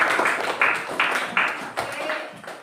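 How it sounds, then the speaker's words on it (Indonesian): Brief bursts of clapping for a student named Lisa in a classroom, several short uneven rounds of hand claps close by with a murmur of room noise between them. "Tepuk tangan buat Lisa."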